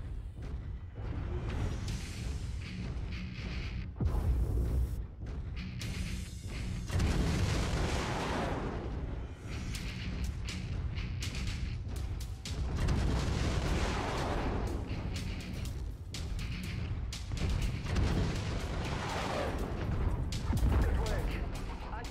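Missile volleys and explosions from a mech in MechWarrior 5: Mercenaries, a dense, continuous rumble of launches, booms and blasts rolling for over twenty seconds, with a voice talking over the combat.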